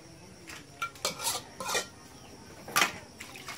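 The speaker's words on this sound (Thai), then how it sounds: "อันนี้ล้างกระทะมาเลย" A wok being scrubbed and washed in a kitchen, with scattered scraping and metallic clinks and rubs in short irregular bursts, quiet and close with no talking.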